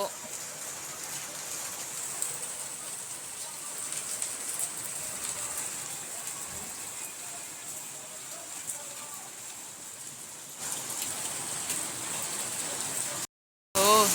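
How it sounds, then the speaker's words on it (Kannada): Steady patter of rain falling, a constant soft hiss that continues evenly throughout. "ಓಕೆ, ಮಳೆ ಬರ್ತಿದೆ"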